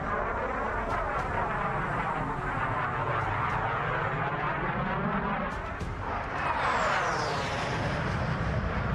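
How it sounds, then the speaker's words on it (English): Jet aircraft flying past at the London Air Show, a loud roaring wash with sweeping, phasing pitch as the planes pass, swelling again toward the end, with no voices. "our team recorded jet sounds at the London Air Show a few years back. I used these jet flybys as a core part of my sound."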